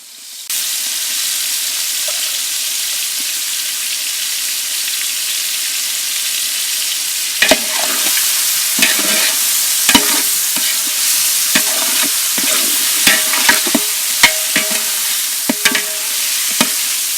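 Cleaned dry fish added to a pan of sautéed tomato and onion for a traditional karuvadu kulambu, frying with a steady loud sizzle and hiss, then repeated sharp clacks of a spoon stirring against the pan.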